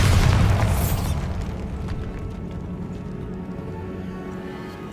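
A Bombarda spell explosion in Hogwarts Legacy goes off in a single loud, deep boom at the start, then rumbles and fades over several seconds into low ambient noise.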